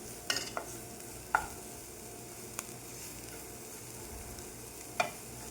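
Vegetables and spices stirred in a pan, with a few sharp spoon scrapes and clicks over a faint steady sizzle, close by and fairly quiet.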